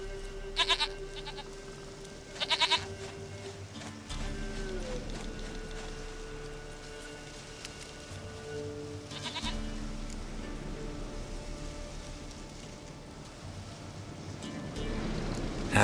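Goat bleating in The Witcher 3, several short loud bleats spaced a couple of seconds apart over a steady outdoor ambience with droning background music.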